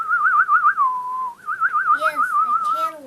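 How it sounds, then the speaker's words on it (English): A boy whistling a wavering, trilling tune, clear and close, with a short pause partway; another voice briefly speaks near the end. "Look, the boy is whistling."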